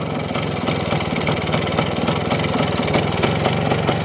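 A DKW RT 125 motorcycle's small single-cylinder engine idles close by with a steady, busy putter, a continuous even chug filling the whole stretch without pauses.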